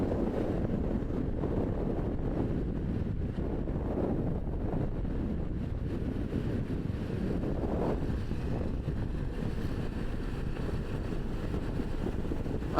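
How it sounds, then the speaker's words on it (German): Icy wind blowing steadily at a high mountain pass on a motorcycle trip between Chile and Argentina, a continuous low rushing buffet across the microphone with no break, moderately loud and unaccompanied by talk. "Ein eisiger Wind."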